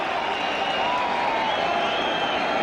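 A stadium crowd at a T20 cricket match between India and New Zealand in Mohali applauds and cheers in a dense, steady, continuous roar that carries through the whole stretch.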